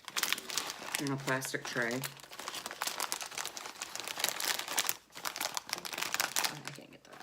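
Plastic chip bag from China, crispy chocolate flavor, crinkling steadily as someone struggles to tear it open, the crackle running throughout under overlapping talk and laughter from several people.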